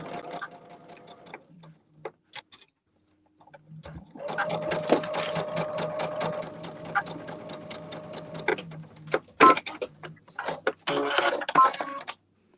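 Sewing machine stitching quilt blocks for an Alice in Wonderland sampler quilt, running in short bursts at first, then a long steady run of rapid needle strokes with brief stops and restarts near the end, close and loud.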